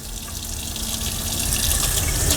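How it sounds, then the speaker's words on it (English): Tap water runs steadily over hands as oil paint is rinsed off at a sink, a loud, close and continuous hiss and splash with no break. "now I'm going to rinse my hands off"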